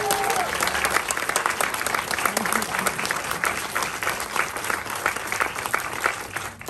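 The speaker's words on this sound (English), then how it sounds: "Let's have a round of applause, please." Audience applause at a film screening Q&A, dense sustained clapping from a full room, loud and steady throughout with a few voices mixed in.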